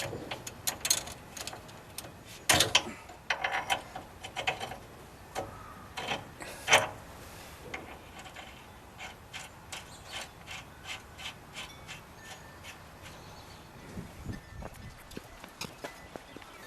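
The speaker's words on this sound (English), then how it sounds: "take a screwdriver and poke down and seat our rubber boots in for our grease seal" A screwdriver pokes and presses rubber boots into the grease seal of a Ford F250 ball joint, giving a faint, irregular run of clicks, scrapes and metallic taps up close with brief louder knocks.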